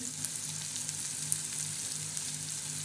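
A spice tempering of red chilli, turmeric and salt for sprouted-bean usal sizzles steadily in hot oil, a continuous close hiss with a few faint crackles and no voices.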